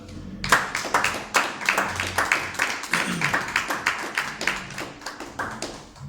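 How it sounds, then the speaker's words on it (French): Audience applauding at a book presentation, a close, dense burst of hand claps rising quickly and then settling into a steady, slightly fading clatter with no speech over it. "Messieurs et dames, s'il vous plaît, applaudissez pour Chardek Kala."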